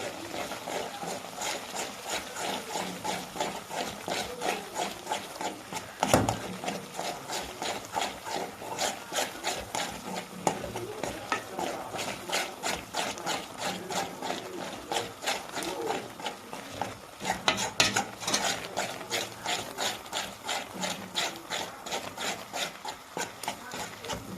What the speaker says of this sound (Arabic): هحط معلقه من الزبده، معلقه من الزبده عليه كده واقلب